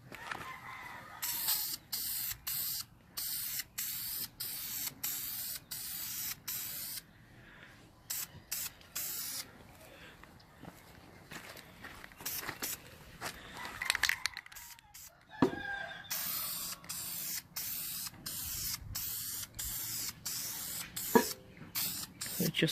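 An aerosol spray can hisses in repeated short bursts of even rhythm, close and loud, laying a second coat of paint on an SVT Lightning supercharger outdoors, with a rooster crowing and clucking faintly in the background and light wind.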